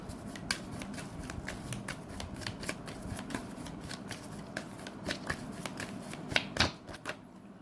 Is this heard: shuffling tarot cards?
yes